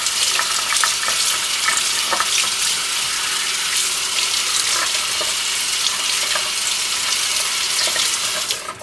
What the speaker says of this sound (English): Just rinse real good under cold water just to get off the vinegar and the peroxide.